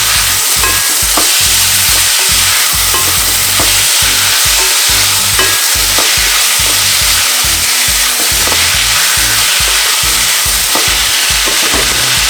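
Tomato and mixed pepper stirred in a frying pan make a loud, steady hiss of frying. Repeated scraping and clattering strokes of the stirring run through it in an uneven rhythm.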